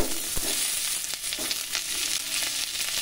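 Cut potatoes hit hot oil in a pan and fry with a steady close sizzle, crackling and spitting throughout with a few louder pops, no voices.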